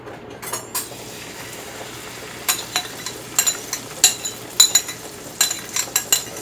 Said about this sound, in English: gonna mix it here. The cilantro and the butter.